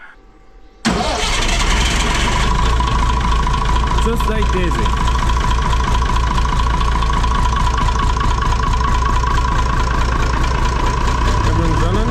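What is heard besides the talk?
Massey Ferguson 1200 tractor engine starting and idling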